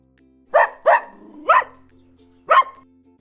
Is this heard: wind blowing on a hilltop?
no